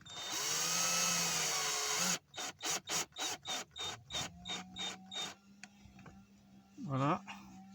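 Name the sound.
screwing in an aluminium pedal on a Citroen C4 with a power tool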